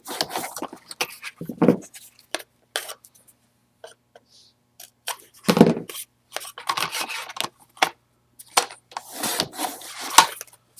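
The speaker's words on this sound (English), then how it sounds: "I'm going to cut off maybe 3 or 4 inches off of this one" Scissors and handling noises come in scattered bursts of snipping and rubbing while craft material, burlap and chipboard, is trimmed by a few inches, loud and close with silent gaps between.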